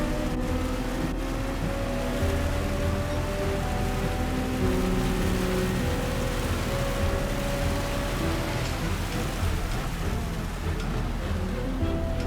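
Steady rain hiss over a droning race car engine during a pitch-black night race at Dragon Trail Gardens in Gran Turismo 7, a continuous broadband wash with no voices.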